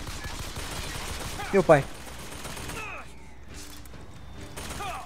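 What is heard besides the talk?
gunfire destroying a turret in video game BioShock Infinite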